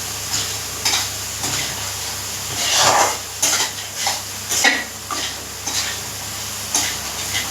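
Pre-fried cauliflower is added to a well-cooked spice paste in a pan and stirred. A spoon scrapes and taps the pan repeatedly at an uneven rhythm over a low sizzle, near and with no speech.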